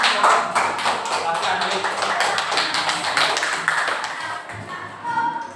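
Children in a primary school classroom clap their hands together, a steady patter of many quick claps that stays fairly loud and then fades toward the end.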